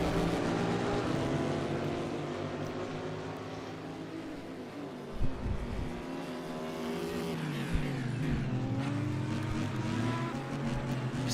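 A Meyershank Racing Acura prototype race car at the Rolex 24 at Daytona, its engine holding a loud sustained high-pitched drone that rises and falls in pitch with gear changes, with a few faint bumps beneath.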